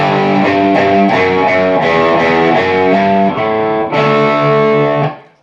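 Distorted electric guitar plays a rhythmic chorus riff, loud and alone, with repeated chugging chord hits and short pauses before fading out.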